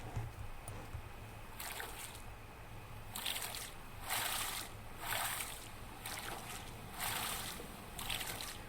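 Oar strokes paddling a raft in the video game Raft, each pull giving a soft wet splash and swish, roughly once a second in a steady rhythm over a constant low water ambience, with no talking.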